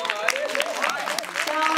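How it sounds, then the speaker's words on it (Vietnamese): Audience applause at a Vietnamese TV show launch, a short burst of scattered clapping from a crowd, with voices talking and laughing over it. "Một tràng vỗ tay à."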